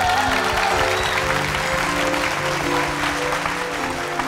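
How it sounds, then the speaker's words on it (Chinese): Warm, sustained applause from a television variety show studio audience, loud and continuous throughout with a low murmur of crowd beneath it. "来最热情的掌声。"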